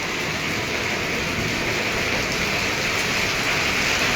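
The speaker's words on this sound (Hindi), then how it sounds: "लेकिन बारिश की रफ्तार में अभी कोई कमी नहीं आई है" Heavy rain pours down steadily during a storm in Patepur, a dense continuous hiss of drops beating on surfaces, loud and unbroken.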